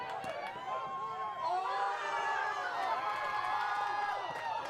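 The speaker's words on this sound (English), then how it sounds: "Quick rise in the crowd there on the fake out far side." A crowd at a high school boys soccer match lets out a quick, rising cheer at a fake-out move on the far side, a broad roar of voices heard from a distance, with commentary continuing over the top.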